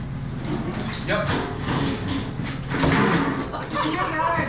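A door is pushed shut with a dull thud amid ongoing voices and shop background noise.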